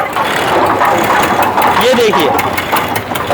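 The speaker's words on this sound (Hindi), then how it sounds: "जब हम इसे उठा रहे हैं तो इंजन पे इफेक्ट क्या पड़ रहा है" A tractor engine runs at a steady, mid-pitched drone while it lifts an attached concrete mixer, and someone talks over the constant engine noise.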